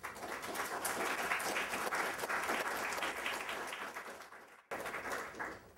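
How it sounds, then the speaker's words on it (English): An audience applauds after a talk, a steady wash of clapping from a roomful of people that fades briefly near the end before picking back up. "Applause is always welcome too."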